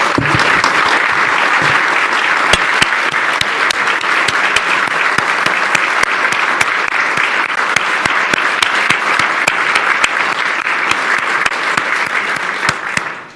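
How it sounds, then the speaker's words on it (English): Loud, dense audience applause at a political gathering with Ontario NDP leader Andrea Horwath, thanking people for public service, sustained and even with crisp individual claps, tapering off only at the very end. "let's give them a round of applause for their public service"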